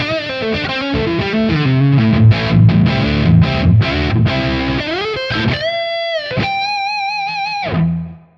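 Electric guitar played on the neck pickup through a Tonex pedal on its OD3 overdrive tone, a loud distorted run of chords and notes that ends on sustained, bent lead notes, then stops.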